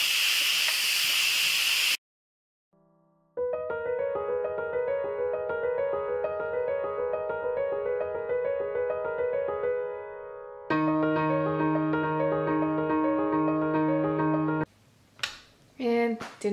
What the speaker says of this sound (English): I'm going to go ahead and release the steam from the pot or the pressure